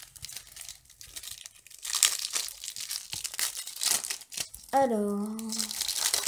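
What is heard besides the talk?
opening trading card booster packs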